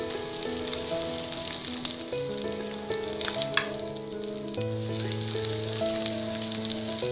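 A bread omelette sizzles in groundnut oil in a pan with a steady, bright frying hiss, close and even throughout, while a sustained melodic tune plays in the background.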